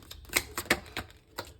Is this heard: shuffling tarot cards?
yes